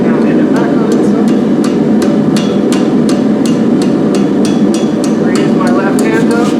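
A blacksmith hammers the end of a hot steel bar into a tight scroll over the edge of an anvil, with sharp, ringing blows landing in a steady rhythm over a loud, continuous low rumble, close by.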